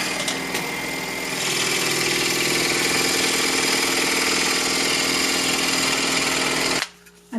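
A power saw with a fresh blade cuts through laminated hardwood slices for pendants, a loud, continuous grinding whine for about six seconds before it abruptly stops.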